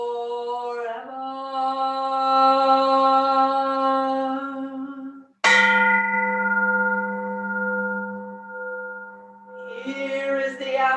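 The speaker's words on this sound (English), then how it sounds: "Here is the after sound of the bell." A bell at a Buddhist service is struck twice, each strike ringing with a clear metallic tone that sustains and slowly fades, with a softer onset near the end.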